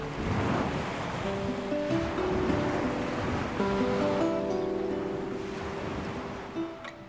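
Mediterranean sea waves washing in as a constant, full surf roar with wind noise, close by and steady, with no voices heard.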